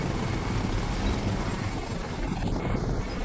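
Helicopter rotor and engine drone in the video game Crysis, a dense continuous low thrum with broadband wash, steady and fairly loud throughout.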